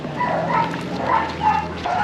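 Dogs at an animal shelter in Puerto Rico keep up a steady chorus of barks and yips, several animals overlapping in a fairly loud, continuous din.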